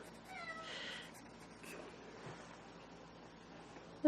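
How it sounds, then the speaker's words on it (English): An indoor cat meows a couple of times early on, fairly soft against a quiet room hum, then stays quiet for the rest. A faint bump comes at the end. "What's the matter, kitty?"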